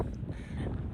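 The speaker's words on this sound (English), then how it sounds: "sorry about the wind" Low buffeting rumble of wind striking a microphone outdoors at an old fluorite mine, steady and muffled, with no voices.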